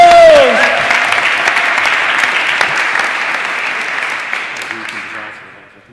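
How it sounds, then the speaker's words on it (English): Audience applause for two presenters, Nick and Bob, as they take the stage at a chapel event: loud, dense clapping that starts at once, holds steady, then thins and fades over the last second. "give them a round of applause!"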